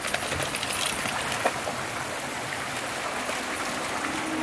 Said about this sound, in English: Nice running water creek.